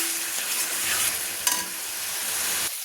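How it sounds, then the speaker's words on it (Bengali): Spice masala frying in oil in a pan while being stirred, a close, even sizzle with a sharp scrape of the spoon midway and no talk. "ততক্ষণ আমি মশলাটাকে নেড়ে নেব"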